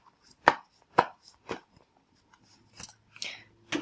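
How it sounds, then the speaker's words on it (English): Tarot cards being shuffled off camera make a handful of separate soft slapping and brushing bursts, spaced irregularly and fairly close, with no talking. "So hopefully you can hear that I am shuffling off camera though"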